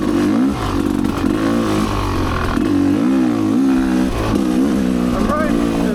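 An off-road vehicle runs in third gear along an ORV trail. Its engine drones loud and close with rising and falling revs and a rattle of the chassis, while the rider keeps talking over it.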